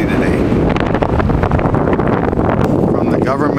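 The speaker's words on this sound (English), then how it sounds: "very, very windy today." Strong wind gusts roar across an open bay by the government docks at Lefroy, Innisfil, in winter, a loud, continuous blustery rush buffeting the microphone for the whole stretch, with a voice faintly beneath it.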